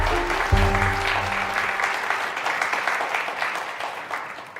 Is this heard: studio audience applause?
yes